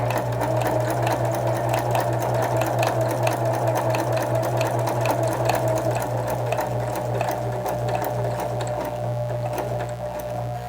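A sewing machine stitches paper Christmas card tree tops, running at a steady rapid pace. Its close, loud mechanical whir and fast needle clatter continue without pause, and no one speaks.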